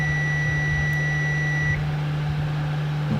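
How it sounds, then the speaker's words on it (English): A multimeter set to continuity mode gives a steady high-pitched beep for well over a second during a flight controller short check, then it cuts off, leaving a constant low hum underneath. "My multimeter in continuity mode again. I think you can hear the beep."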